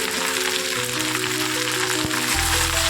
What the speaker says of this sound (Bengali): এবার নুন হলুদ দিয়ে ঢ্যাঁড়সটা ভাজতে থাকবো